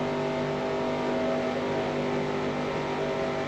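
A stock car engine roars at steady high revs around Daytona in the NASCAR Racing 2003 video game, a continuous loud drone with no letup and no talking.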